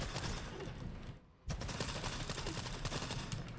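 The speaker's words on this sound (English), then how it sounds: "fire in controlled bursts to get headshots" A submachine gun in Stalker 2 fires in rapid bursts, a dense stream of loud shots that drops out briefly and then resumes, with no voices.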